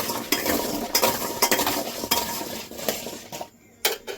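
Taro pieces fry in hot oil in a pan, a sizzle broken by repeated metallic scrapes and clinks of a spatula, close and fairly loud.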